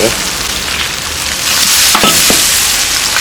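Garlic sizzles steadily in a hot pan, a dense frying hiss with a few sharp clatters of stirring near the end, close and loud.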